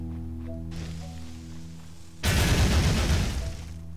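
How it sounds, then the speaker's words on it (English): Dynamite blast in Ittle Dew 2 bursts in abruptly midway, a loud broadband roar that sustains for over a second after a quieter stretch of steady game music and ambience. "That was not an explosion I was expecting."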